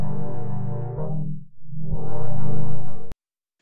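Sustained synth chord run through Logic 9's auto filter with cutoff automation: the sound darkens to a low muffled hum as the filter closes, then brightens again as it reopens, ending abruptly.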